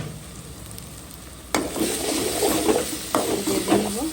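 Prawns go into a hot pan with onion, tomato and salt, bursting into loud sizzling frying with scraping stir strokes, the sizzle jumping up sharply twice as ingredients are added.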